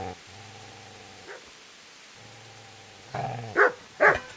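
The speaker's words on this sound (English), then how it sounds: "Get away, you mutt!" Dog barking in the medieval game Kingdom Come: Deliverance, a few whines and yips building to two sharp, loud barks near the end, with no talk.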